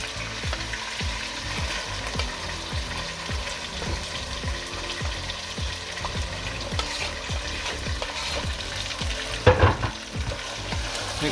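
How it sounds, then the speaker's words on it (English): Onion and garlic fry with already seared beef in a hot pan, giving a loud, continuous sizzle under a fast, regular run of spoon scrapes, with a louder clatter near the end. "You can see the beef is seared already. So you can go in with the onion and garlic."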